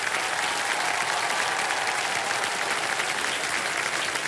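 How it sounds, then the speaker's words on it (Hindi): A studio audience on a Kaun Banega Crorepati game show set applauds loudly to welcome a guest, a dense, steady wash of clapping filling the room without letup. "तो जोरदार तालियों से स्वागत कीजिए"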